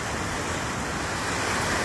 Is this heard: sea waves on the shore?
yes